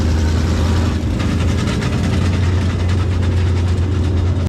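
A race car engine drones loudly and steadily at close range while the wheels are spun to check for dragging, a deep continuous rumble with a faint fluttering texture that cuts off abruptly.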